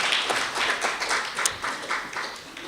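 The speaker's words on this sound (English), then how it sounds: "Huge round of applause." An audience claps after a talk on the 2024 elections. The applause is brief and moderately loud, with a patter of separate close claps rather than a large roaring crowd.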